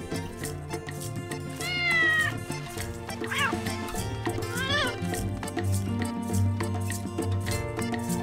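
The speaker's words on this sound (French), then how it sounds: "Maman Chat était partie chercher de la nourriture" A mother cat in an animated children's story, near a barn, gives a few clear rising meows over a steady backdrop of orchestral music.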